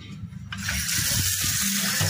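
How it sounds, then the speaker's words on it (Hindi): Water gushes steadily from a tap into a motorcycle fuel tank during cleaning, a continuous rushing pour that starts after a brief quiet moment and stays loud and close. "ऊपर से पानी डालेंगे"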